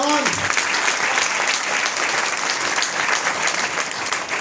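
Audience at a seminar show claps for themselves in a loud, dense, continuous round of applause that fills the whole stretch, following a brief voice at the very start.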